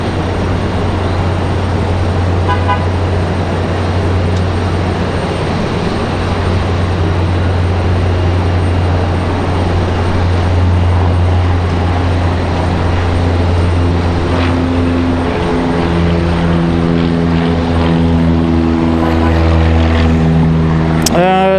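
General aviation aircraft run their engines at Raleigh-Durham International Airport, a loud continuous propeller and engine drone with a steady low hum that shifts in pitch as a plane taxis or takes off nearby.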